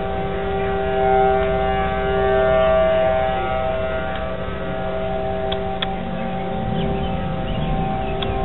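Civil defense sirens blare a thunderstorm warning in light rain, a long droning wail that swells and eases slightly as it rotates, distant and continuous, with faint scattered ticks nearby.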